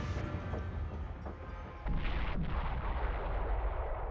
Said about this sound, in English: Maybe I should just continue my artillery barrage.